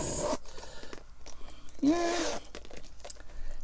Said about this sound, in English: the zipper is actually very smooth